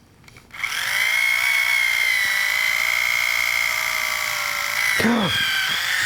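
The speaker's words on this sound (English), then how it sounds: "we're going to drill another window without going into my finger" A small power drill whirs steadily while boring a window hole in a plastic model kit, a continuous close buzzing tone that starts after a brief pause and dips for a moment near the end.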